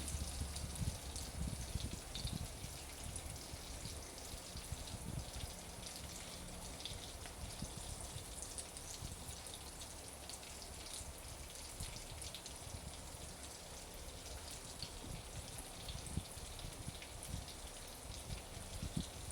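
Mustard seeds and fenugreek spluttering in hot oil for a fish curry: a dense, continuous crackle of fine pops and hiss, steady and fairly faint throughout, with no talking.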